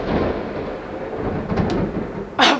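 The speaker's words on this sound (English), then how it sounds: "did you guys hear that freaking thunder? Florida thunderstorms are no joke" Thunder rolls through a Florida thunderstorm as a steady low rumble, swelling slightly midway and ending with a sharper, louder crack near the close; no voices.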